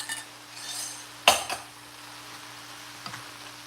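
A metal cooking pot clanks sharply a couple of times while food is being stirred and cooked, with a faint sizzle and clink in a quiet kitchen.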